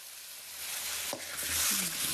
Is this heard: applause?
no